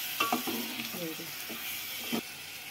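Cleaned mutton pieces are turned gently with a ladle in hot oil, a constant sizzle and hiss with soft scraping stirs throughout.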